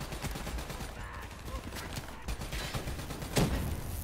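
Scattered gunfire in Black Ops 3, bursts of shots with mechanical clicks and clatter, moderately loud and uneven, with a spike of louder impact near the end.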